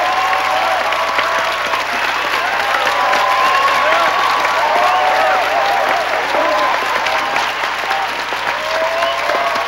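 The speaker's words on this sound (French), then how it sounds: "Applaudissons bien fort cette nouvelle Miss Interlycée" Loud, sustained applause from a crowd greeting the newly crowned Miss Interlycée, a thick wash of clapping with scattered cheers and murmured voices.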